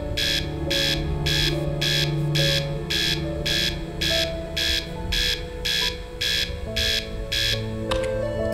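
A power alarm blares inside a space-survival video game: a loud, even series of about fourteen electronic buzzing pulses in a regular on-off rhythm over a low machinery hum, ending with a brief click.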